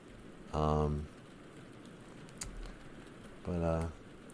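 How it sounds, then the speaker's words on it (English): Rain falling outside makes a soft, constant hiss, broken by two short voiced bursts about three seconds apart and a faint tap between them. "Not this morning because it's raining"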